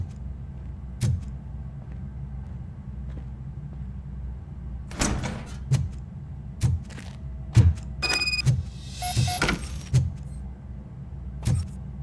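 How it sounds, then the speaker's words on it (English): A door opening in RoboCop: Rogue City: heavy metallic thunks and a longer mechanical slide with a whirring motor run near the middle, set among sparse, regularly repeating heavy footsteps on a quiet ambience, with no talking. "Now let me get that door open for you."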